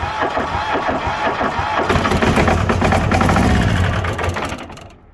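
A diesel Allis Chalmers 920H garden tractor engine idles with a steady, close mechanical chug and light knocking rhythm, fading out near the end.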